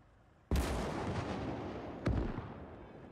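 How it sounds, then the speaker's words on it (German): Artillery guns firing in the WWII strategy game Gates of Hell: Ostfront, two heavy booming shots about a second and a half apart, each followed by a long rumbling decay. "ich muss das mit der Artillerie machen. Auch schon einmal geschossen."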